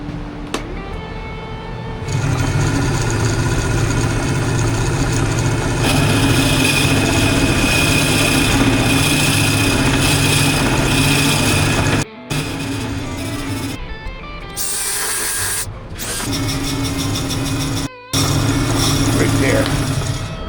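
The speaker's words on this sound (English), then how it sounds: "let's go ahead and get this thing drilled up" A drill bores into the base of a ceramic vase, a loud, steady grinding whir that starts after about two seconds of quiet and runs on with a couple of brief stops.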